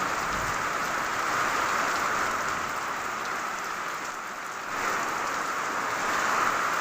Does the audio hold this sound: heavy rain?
yes